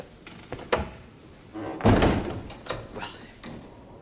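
A door swings shut with a heavy thunk in an indoor royal-court scene, preceded by footsteps and a softer knock, with a voice briefly heard nearby.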